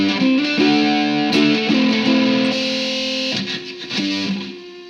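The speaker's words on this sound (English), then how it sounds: "You could just have a clean boost into your distortion, and it'll distort it even more." A ukulele played through a clean boost into a distortion pedal, strummed chords ringing out heavily saturated and buzzy, several strums in succession sustaining loudly, with no talking.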